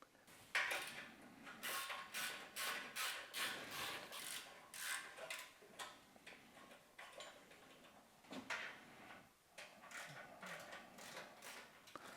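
A hand ratchet loosens the 10 mm and 12 mm bolts on the exhaust bracket of a Bear 650 motorcycle, giving repeated bursts of close, crisp clicking with short pauses between strokes.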